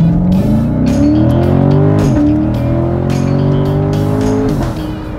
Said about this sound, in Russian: Выхлоп реально стреляет, очень это круто звучит.